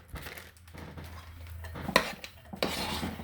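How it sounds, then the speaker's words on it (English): Cubed hash browns stirred in a crock pot with a utensil, producing soft scraping and crunching shuffles and a couple of sharper clinks against the pot, close and fairly quiet. "we're going to add this whole bag into our crock pot and give it a good stir"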